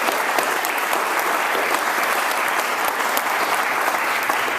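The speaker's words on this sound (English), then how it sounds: "So another round of applause for the Mayor's Foundation board." Sustained audience applause at a charity fundraising event for Ronald McDonald House, honouring the Mayor's Foundation board; dense, loud, continuous clapping from a large crowd, close and steady throughout with no speech over it.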